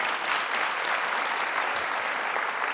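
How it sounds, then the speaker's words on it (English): Steady, full audience applause at a technology business talk, dense even clapping continuing evenly throughout with no talk over it. "Let's just give her another round of applause."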